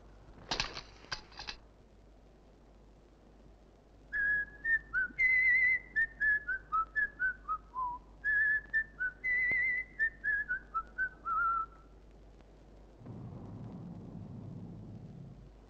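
A person whistles a melodic tune in two clear phrases, close and loud, after a brief burst of noise, with a low rumble at the end.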